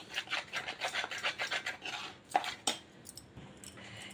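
Coated potato pieces for french fries are tossed and mixed in a bowl, giving a rapid rhythmic rubbing and scraping with a couple of sharper clinks near the end, close and fairly quiet.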